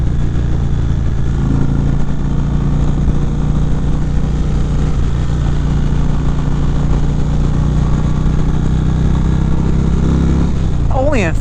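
Steady engine drone from a 2019 Indian Chieftain motorcycle on a demo ride in sport mode, third gear, loud and continuous throughout with wind noise, a rider's voice faintly over it.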